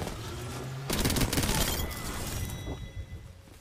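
A thermite grenade in Apex Legends bursts, giving a loud sudden whoosh and crackling roar that rolls on for a couple of seconds, with gunfire textures mixed into the game noise.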